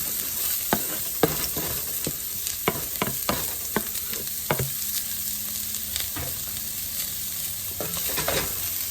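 Hot oil sizzles steadily in a pan as garlic cooking gets under way, a continuous close hiss broken by scattered sharp crackles and pops, with no talking.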